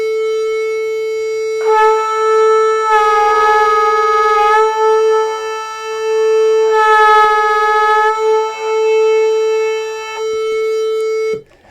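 Steady electronic reference tone from a tuner sounding continuously, with a brass or woodwind instrument joining in two sustained held notes, first pulled out of tune against it and then in tune.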